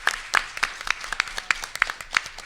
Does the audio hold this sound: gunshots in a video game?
no